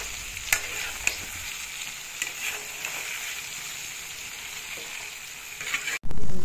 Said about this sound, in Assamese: এতিয়া চাওকচোন ধুনীয়াকৈ উতল আহিছে তেলখিনিৰে